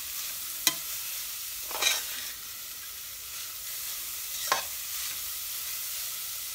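Carrot sautés in a pan for ladoo, giving a soft continuous sizzle with a few sharp spatula scrapes and stirs spaced a couple of seconds apart.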